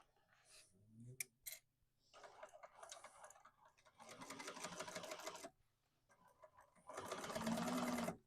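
A sewing machine stitches a tote bag in short runs, each a fast, even mechanical whir of needle strokes, separated by pauses with small clicks and handling noises, close and fairly quiet.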